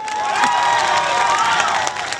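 An audience at a stage event in Keonjhar claps and cheers in a continuous loud wash of applause, with shrill whistle-like tones rising over the crowd.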